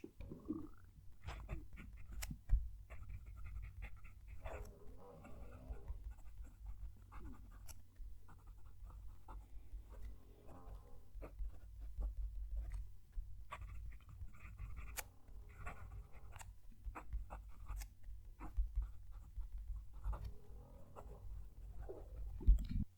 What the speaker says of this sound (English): Going to move the mic down to the page so you can hear the pen writing